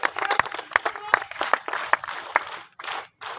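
Audience clapping at a disaster-management day demonstration by Fatehsagar Lake, a burst of scattered hand claps with a voice talking over it, then easing off toward a brief quiet gap.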